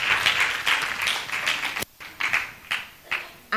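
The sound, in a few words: audience applause welcoming Sharifa to the stage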